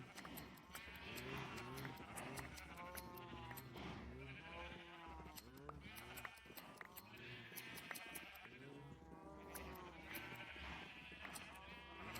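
Several sheep bleat in Minecraft, overlapping cries repeating in bursts, close and clear, over a faint low hum and with no talk.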